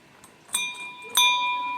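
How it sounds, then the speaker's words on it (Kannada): Bell at a hillside estate struck twice, each a bright metallic clang with a long ringing tail close by. "ಇದು ಇಲ್ಲಿದು ಎಸ್ಟೇಟಲ್ಲಿ ಈ ರೀತಿ ಇರುತ್ತೆ ಬೆಲ್."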